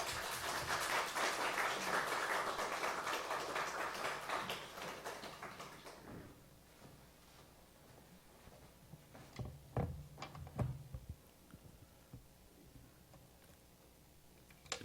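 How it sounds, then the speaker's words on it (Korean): A church congregation applauds to welcome the pastor: dense, full clapping for about six seconds, then it thins out into a quiet hall with a few scattered knocks and shuffles. "목사님 나오실 때 큰 박수로 환영해 주시기 바랍니다."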